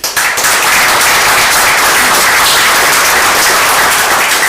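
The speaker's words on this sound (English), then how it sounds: "how about a round of applause, Ray Key" A large audience at a woodturning demonstration bursts into loud, sustained applause to welcome woodturner Ray Key, a dense, even roar of clapping holding steady throughout.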